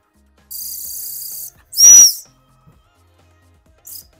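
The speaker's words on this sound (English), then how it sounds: "So this time, I'm gonna try my stop whistle." A long, steady high dog-training stop whistle blast, then a short sharp pitched tweet, followed by a brief faint peep after a pause, in a quiet setting.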